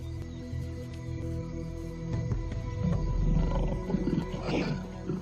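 A wild lion gives a deep, rumbling roar that swells in the middle and then fades into grunting breaths. It sounds fairly close in open African bush, with a steady low background hum beneath it.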